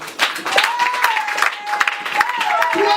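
A church congregation applauding during a sermon, scattered clapping and crowd noise running the whole time beneath a sustained singing or chanting voice.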